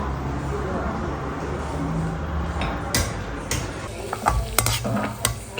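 Anarse, sweets made from soaked rice, fry in oil over a low gas flame with a steady, broad sizzle, joined later by a few sharp clinks and stirring sounds; someone talks faintly over it.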